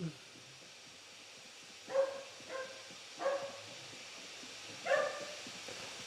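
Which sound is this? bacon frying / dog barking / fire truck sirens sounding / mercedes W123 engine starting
dog barking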